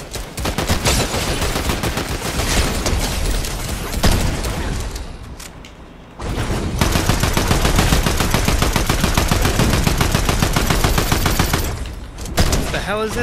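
Assault rifle fire in the video game Fortnite, loud dense bursts of rapid shots filling most of the stretch, broken by a brief lull, with a voice talking over part of it.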